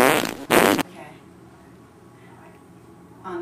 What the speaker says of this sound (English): A fart machine farting all day long.